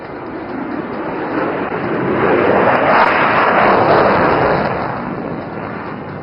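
An F-35 fighter jet preparing for a short takeoff at an air show: a loud, broad jet roar that swells toward the middle and stays strong, with no talk over it.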